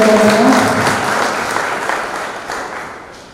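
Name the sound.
applause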